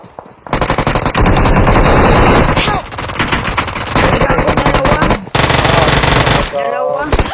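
Loud, sustained bursts of automatic machine-gun fire with scattered single shots, filling most of the stretch with a brief pause near the end, while voices speak over the shooting.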